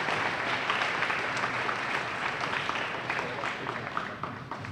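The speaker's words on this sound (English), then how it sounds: "Let's everyone give these students a round of applause." A crowd applauds DARE program students at a school ceremony, a dense, even patter of many hands clapping that holds steady for several seconds at moderate level.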